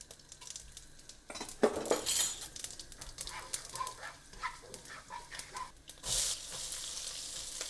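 Black mustard seeds and cumin sizzle in hot olive oil at the start of a cauliflower chickpea curry, a steady close crackle broken by scattered popping seeds and a few clinks of a spoon against the pan.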